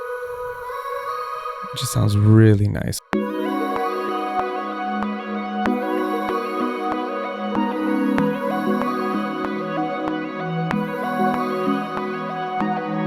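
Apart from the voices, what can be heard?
sped-up vocal sample in a beat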